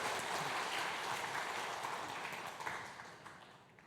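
A church congregation applauds after a baptism during a Sunday worship service, dense, even clapping that fills the room and gradually fades toward the end.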